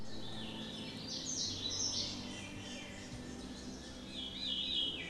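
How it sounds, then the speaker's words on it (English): Faint, scattered bird chirps drift over a steady outdoor hum in Northfield State Forest, Massachusetts, with a few brighter calls rising briefly near the end. "You're hearing birds in Northfield State Forest."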